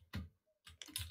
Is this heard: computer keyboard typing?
yes